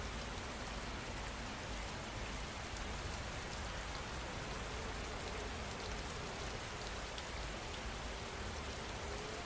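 Rain falls in a dense, even wash of hiss, steady and unbroken throughout, with no other sounds standing out.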